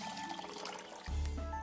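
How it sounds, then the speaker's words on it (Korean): Cold tap water runs steadily over frozen shrimp being thawed in a home kitchen, a close, continuous splashing rush that starts suddenly partway through and grows louder. "냉동새우는 찬물에 해동을 해놓을게요."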